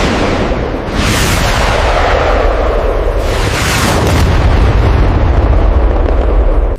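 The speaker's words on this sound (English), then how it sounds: "You hear explosions." Heavy booming explosions, two sharp blasts among a continuous roaring rumble, loud and close, like a barrage of artillery shells bombarding Fort McHenry in 1814.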